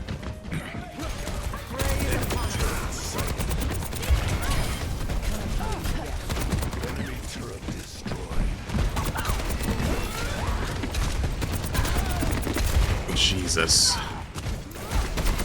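Soldier 76's rifle firing in Overwatch 2, sharp gunfire bursts of a few shots each, broken by reloads, running through a busy match mix with a voice talking over it.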